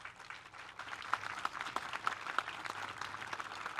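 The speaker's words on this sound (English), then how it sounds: "Give them a round of applause." An audience at an artwork dedication ceremony gives a brief round of applause. Scattered claps form a soft, moderately distant patter that keeps going to the end.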